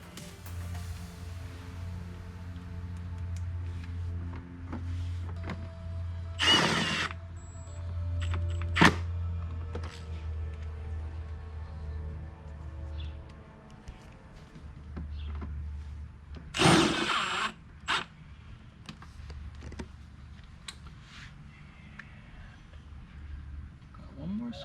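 A power drill whirs in short bursts while removing screws from a Ford Focus during an AC evaporator replacement, close buzzing runs broken by scraping and knocks, with a low steady hum underneath.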